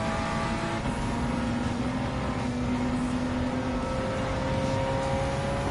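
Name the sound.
race car engines in video game Gran Turismo 7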